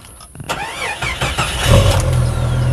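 1994 Jeep Cherokee Limited 4.0 starting up, a short cranking whine that catches into a loud, rumbling idle through an aftermarket exhaust, close by and sustained, with no talking.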